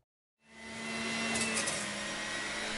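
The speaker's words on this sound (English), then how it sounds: "Well, it's as loud as most other centrifugal juicers." Breville Juice Fountain Cold centrifugal juicer starting up, then a loud, steady whirring motor hum that holds constant to the end. No voices.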